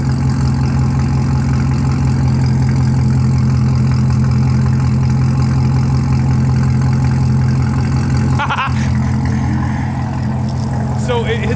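A Corvette C7 Z06 with a new loud aftermarket exhaust idles with a deep, steady rumble, close and loud throughout, with a brief blip near the end.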